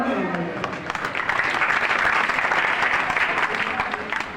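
A crowd at a village gathering for an MLA's visit in India bursts into loud, sustained clapping that fills the room, with a voice briefly audible at the start.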